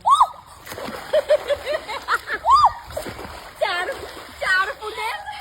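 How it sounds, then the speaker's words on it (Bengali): Water splashes and sloshes in a swimming pool in short bursts, while voices talk over much of the sound. "আমার পুলে অন্য মাছ এসে ঝাপাঝাপি করছে"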